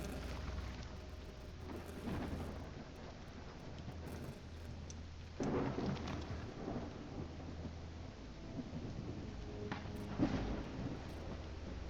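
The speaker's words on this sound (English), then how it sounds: "It's raining cats and dogs here." Heavy rain pours steadily in the video game Call of the Elder Gods, with deep thunder rumbles rolling in several times over the downpour, fairly loud and with no voices.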